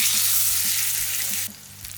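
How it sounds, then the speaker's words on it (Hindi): A chicken steak hits hot olive oil in a pan over medium flame, producing a loud, dense, hissing sizzle close up that drops slightly in intensity partway through but keeps crackling steadily. "ऑयल हीट अप हो गया है, इसके अंदर अब हम स्टेक रखेंगे।"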